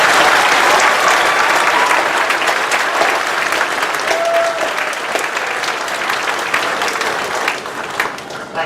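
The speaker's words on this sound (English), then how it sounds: "let's give this group one more round of applause" A graduation crowd gives a sustained round of applause for the graduates at a spring ceremony. The clapping is loud, dense and continuous for nearly nine seconds and tapers slightly near the end.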